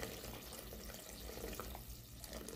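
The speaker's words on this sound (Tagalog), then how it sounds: "Dagdagan natin sa patubig para sa sabaw natin." Tap water runs steadily into a cooking pot for chicken tinola broth with banana heart, a soft continuous splashing flow with no talking.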